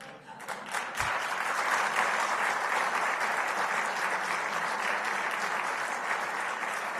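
Press members at a Turkish news event applaud, a steady dense clapping that starts after a brief pause and continues loudly to the end, with no talk over it.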